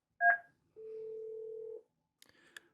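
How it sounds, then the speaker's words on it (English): Yealink T48S desk phone emitting dialing tones while placing a call: a short dual-tone beep, then a steady held tone for about a second, followed by faint scattered clicks, quiet and close with no voice. "To place a call on this phone, simply dial the phone number, and you can click Send"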